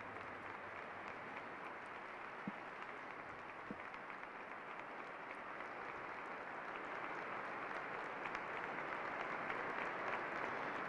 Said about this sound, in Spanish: Un largo aplauso de los concelebrantes, de los asistentes.